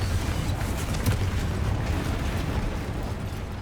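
The Confringo blasting spell goes off in Hogwarts Legacy as a steady, roaring explosive rumble with crackling bursts that stays loud and dense throughout without letting up.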